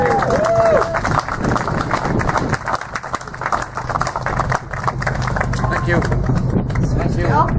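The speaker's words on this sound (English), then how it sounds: "can I ask you all to give him a round of applause?" A crowd at a school's American and classic car show applauds the event organiser. The clapping is loud and continuous, mixed with crowd noise and voices.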